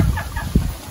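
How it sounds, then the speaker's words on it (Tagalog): A chicken gives a brief burst of close, loud clucking, heard alone with no talking. "Laki ng manok."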